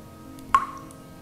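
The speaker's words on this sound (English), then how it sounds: "I heard the sound of dripping water." A single water drip from an animated film, one clear plop with a short ringing tail against a quiet, faintly humming background.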